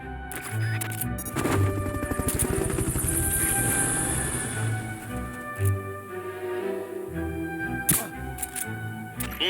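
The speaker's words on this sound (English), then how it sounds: "Fulton Recovery helicopter is complete." Fulton Recovery helicopter in the video game Metal Gear Solid Peace Walker, its rotor chopping in rapid steady pulses with a whining engine, loud and close, alongside clicks and electronic game effects.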